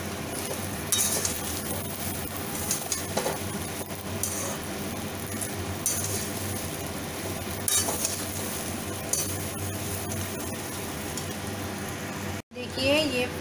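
Jujube (ber) fruit lightly frying in oil for a sweet-sour pickle, with a steady, close sizzle and occasional stirring clinks against the pan throughout, a voice speaking over it.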